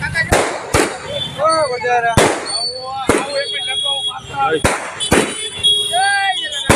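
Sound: fireworks and firecracker explosions at Jalaram Jayanti celebration

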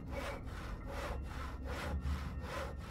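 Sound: sawing a wooden board in the video game Penumbra Overture

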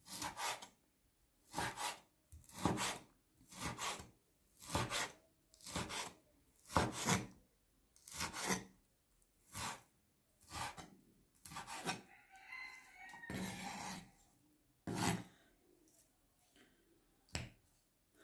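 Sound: chopping frozen beef kidney with a knife

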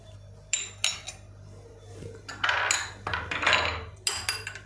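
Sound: spoon stirring spiced buttermilk in a glass

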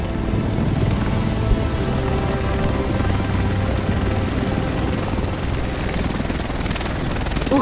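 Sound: helicopter arriving in video game The Division

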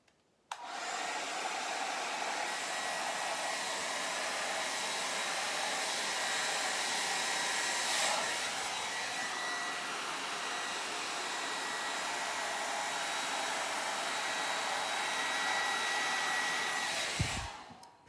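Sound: hair dryer blowing white acrylic paint across a pour painting

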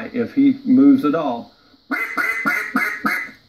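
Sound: Zink mallard duck call, greeting call

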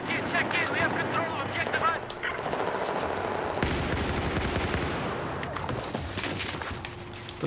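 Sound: gunfire in Battlefield 4 video game

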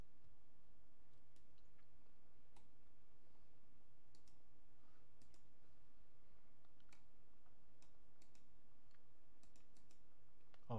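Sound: computer mouse clicking in AmigaOS

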